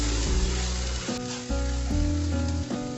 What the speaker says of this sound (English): Add 2 tablespoons of coriander seeds powder. Stir fry under low flame for 2 minutes.